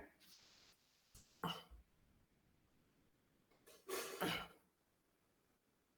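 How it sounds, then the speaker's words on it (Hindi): A man coughs and clears his throat in two short rough bursts, faint and somewhat distant, with quiet room noise between. "डॉक्टर साहब बहुत खांस रहा है आप, क्या बात है?"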